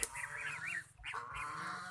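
Geese, a mother and goslings among chickens at a farmyard pond, give a run of soft nasal honks and calls, fairly close and steady across the whole stretch with only a brief dip in the middle.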